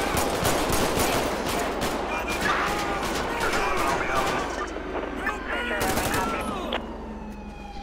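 Gunfire during a police shootout in GTA V with the LSPDFR mod, a dense burst of shots over a wailing siren and chaotic background noise, with a voice talking over the din.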